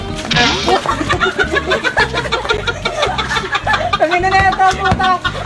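Loud, harmonically rich bird calls, rooster- or hen-like, repeat over a rhythmic thumping backing with busy sound, close and prominent.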